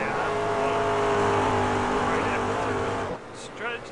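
Daytona Prototype race cars roar past on a circuit, a loud engine drone that swells and then drops away near the end, with a commentator talking over it.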